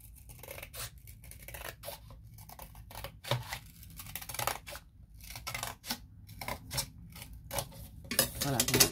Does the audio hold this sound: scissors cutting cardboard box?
yes